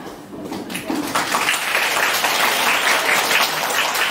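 Children in a ballet class clap for classmates, a brief burst that builds after a quiet start and holds at a steady, fairly loud level for a few seconds.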